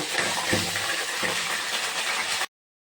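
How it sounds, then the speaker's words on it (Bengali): A whole fish head frying in hot oil gives a loud, steady, broad hiss with faint crackle, running continuously up close before cutting off abruptly. "দেখো, গোটা মাছের মাথাটা ভেজে নেব"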